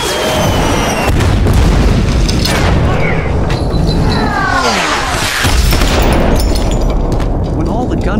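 Gunfire and explosions from a film action scene in a spy action-comedy, heavy booming blasts and bursts running loud and dense throughout, mixed with music and effects.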